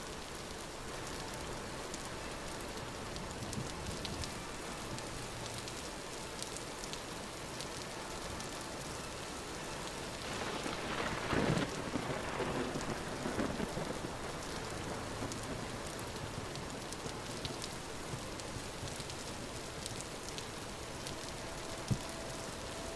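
Steady rain pours down in the Vintage Story video game, a continuous hiss with a low thunder rumble swelling briefly midway, no voices.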